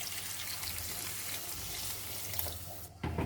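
Water pours steadily into a pan of drumstick curry, a continuous rushing splash that stops abruptly near the end, leaving a brief clatter.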